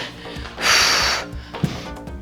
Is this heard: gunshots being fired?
no